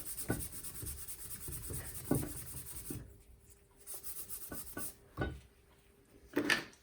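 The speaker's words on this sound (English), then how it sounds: "Let's Scotch Brite the rails at the top." A Scotch-Brite pad scrubs the rusty, pitted rails of an old Kennedy Hexacut power hacksaw, producing uneven back-and-forth rubbing strokes with brief scrapes and gaps, heard up close with no talking.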